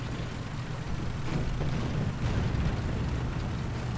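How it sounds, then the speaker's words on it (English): Continuous deep rumbling booms of artillery fire and explosions in War Thunder tank gameplay, loud and low, rolling one into another without pause. "There's some serious explosions going over there."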